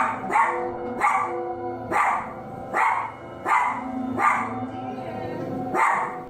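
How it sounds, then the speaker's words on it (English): A dog barks repeatedly at a steady rhythm, about seven sharp barks roughly a second apart, fairly close and clear, with faint whimpering between some of them. "the only reason they started recording in the first place was because one dog was barking"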